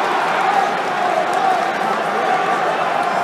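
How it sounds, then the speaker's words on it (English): A boxing arena crowd at the Bernard Hopkins vs Sergey Kovalev fight roars and chants steadily, a loud, dense wash of many voices sustained throughout. "now the crowd is going B-hop"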